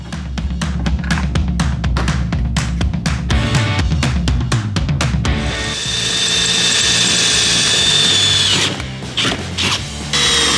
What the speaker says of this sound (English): when you're drilling some holes in your panels like this